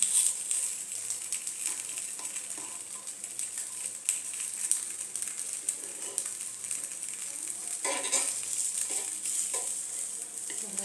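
Appam frying in a covered pan gives off a steady soft sizzle, with light scraping and tapping as the pieces are flipped one after another.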